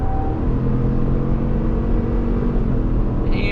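A 2021 Chevrolet Tahoe High Country with the 6.2L engine accelerates hard at full throttle on a highway, a loud, steady low engine drone with rising harmonic tones and a constant road rumble heard from inside the cabin.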